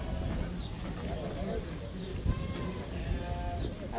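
Sheep bleat in short, scattered calls at a Kyzylorda livestock market where goats are also sold, mixed into a dense crowd hubbub with people talking nearby.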